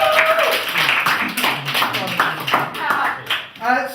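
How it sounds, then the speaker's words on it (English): A comedy club audience claps and applauds for a guest monologist, a brief burst of hand claps mixed with voices and chatter, fading near the end. "I'm going to get you to give us a round of applause for our guest monologist"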